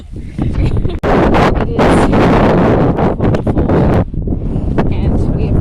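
Strong gusty wind buffets the microphone outdoors near Cradle Mountain in Tasmania, loud rumbling bursts with brief lulls, while a voice speaks a few words underneath.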